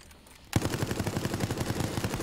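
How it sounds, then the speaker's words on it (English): Rapid machine gun fire in Resident Evil bursts in abruptly after a quiet moment, then rattles on in a steady, dense string of loud shots. "Machine gun again."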